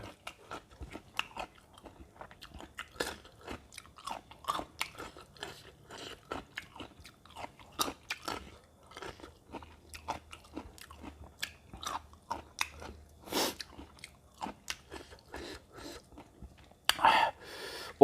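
Close, crisp biting and crunchy chewing of spicy Thai salmon salad with starch-free egg-white noodles, steady bites and mastication repeating throughout with soft breaths and no talking.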